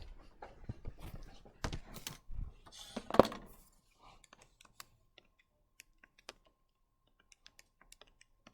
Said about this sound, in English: you can type this in your calculator for sure